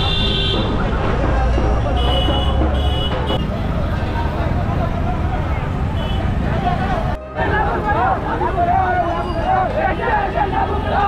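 A crowd at the Banjara reservation protest march in Nanded, a dense babble of many voices mixed with traffic noise, horn toots and buzzing, loud and continuous apart from one brief dropout.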